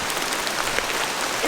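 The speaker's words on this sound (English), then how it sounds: "We're taking a small break because it is pouring down" Heavy rain pouring down on a muddy jungle trail in Colombia, a dense, close hiss of steady downpour that continues through the short stretch without any voices.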